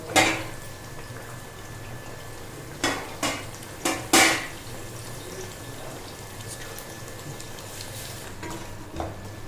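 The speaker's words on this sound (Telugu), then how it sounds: "ఇప్పుడు అలాగే ఇందులో కరివేపాకును కూడా వేసుకోవాలి" Curry leaves hitting hot oil and stirred for a fish curry: sharp crackling spits open the stretch, then a cluster of spattering bursts and scrapes sits over a steady low sizzle.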